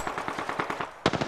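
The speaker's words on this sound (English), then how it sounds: "Enemy spotted. Getting shot at." Rapid automatic gunfire from Apex Legends, a fast even burst of shots that pauses briefly, then resumes with a louder, closer volley.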